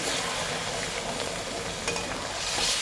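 Potato and pointed gourd fry in a pan while being stirred, giving a continuous close hiss of sizzling with soft scraping and clattering mixed in.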